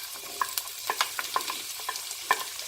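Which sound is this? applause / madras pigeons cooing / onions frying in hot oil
onions frying in hot oil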